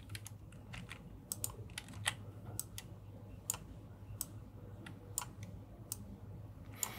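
A typewriter typing sound effect plays as a quiet series of crisp, irregular key clacks, scattered singly and in quick pairs over a faint steady hum.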